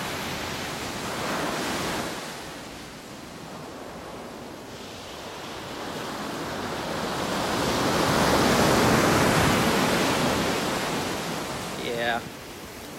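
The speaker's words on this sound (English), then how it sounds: "I'm going to give you some beautiful beach waves" Ocean waves break and wash onto a beach in a continuous, broad rushing roar that swells louder toward the middle and stays close and full throughout.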